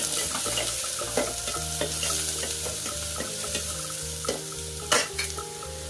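Onion frying in a pan and being stirred, with a steady sizzle and repeated scraping strokes of the spoon against the pan, close and loud with no voices.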